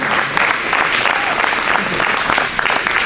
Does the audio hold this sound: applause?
yes